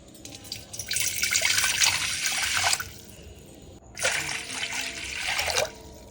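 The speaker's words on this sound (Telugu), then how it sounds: "2 గ్లాసులు వాటర్ వేసుకోవాలి." Water pours into a vessel to make rosemary water for a hair rinse, in two separate pours of about three seconds each with a brief pause between them. The stream is steady and close, with no talking.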